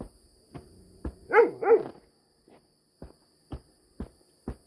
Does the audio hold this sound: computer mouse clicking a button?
no